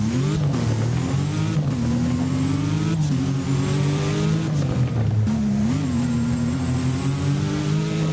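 A W Motors car in the Driving Empire racing game revs hard in a steady, loud mid-pitched engine roar, the pitch climbing and dipping through several throttle blips with no talking.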